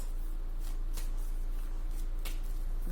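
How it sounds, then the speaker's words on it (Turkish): Tarot cards are shuffled and drawn, with soft papery riffles and a few sharp flicks against a steady low hum, close and fairly quiet, no talking. "Peki bir tane daha alalım kart."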